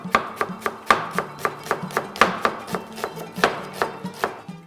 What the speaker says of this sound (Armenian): Սոխը կտրատում ենք կիսալուսնաձև։